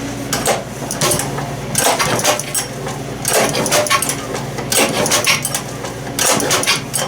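Pull-started engine with a worn, missing oil scraper ring, its rope tugged several times in a row; bursts of rattling, clattering effort recur roughly every one and a half seconds, with a low drone underneath but no sustained running.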